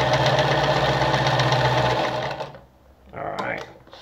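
A Singer 306M sewing machine runs a line of straight stitches, a rapid even mechanical chatter for about two seconds before stopping, followed by a short burst of speech.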